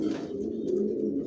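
Silver racer pigeons coo in a loft, a low, continuous throaty burble heard close and fairly quiet with no voices.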